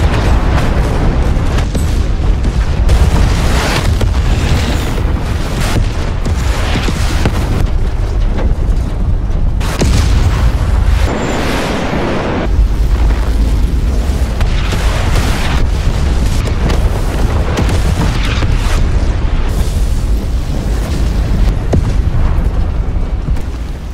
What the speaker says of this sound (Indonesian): jet tempur F-16 menjatuhkan bom berdaya ledak tinggi